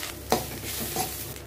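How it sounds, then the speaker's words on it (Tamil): Grated coconut roasts in a little oil in a pan, a soft close sizzle broken by two quick stirring scrapes. "கொஞ்சம் எண்ணெய், தேங்காயில் போட்டு நல்லா வறுத்துக்கலாம்"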